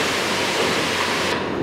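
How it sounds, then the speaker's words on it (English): Vegetable stock pours steadily into a soup pot of German lentil soup, a loud, continuous rushing splash for under two seconds that stops abruptly near the end. "And now we just add our vegetable stock."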